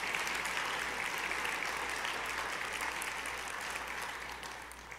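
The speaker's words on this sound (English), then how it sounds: "I would appreciate it if you give them a round of applause for their beautiful work." A banquet audience at a cartography awards ceremony applauds the student cartographers with steady, dense clapping that holds strong throughout and eases off slightly at the very end.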